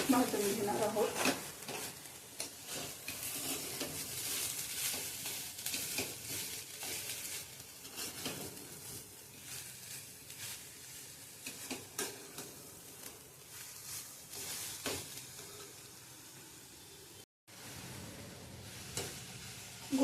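Jaggery and grated fresh coconut roasting and being stirred in a pan for karanji filling, a soft sizzle broken by repeated scraping strokes, with faint talk at times.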